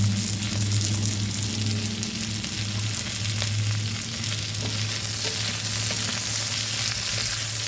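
Green beans and onions stir-frying in a pan give a steady, close sizzle with scraping stir strokes and a low hum underneath, continuous for several seconds with no talking.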